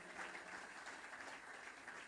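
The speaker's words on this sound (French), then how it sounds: "give a good hand applause to the Lord?" A church congregation applauds in a sustained, even wash of many hands clapping, distant and fairly quiet, with no voices standing out.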